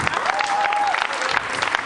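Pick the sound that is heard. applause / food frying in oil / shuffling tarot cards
applause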